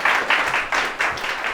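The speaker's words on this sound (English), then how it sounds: "Okay, round of applause for Claire, please." Audience applause at an indie game marketing talk greeting a speaker as she takes the stage, a steady close wash of many hands clapping with no voices over it.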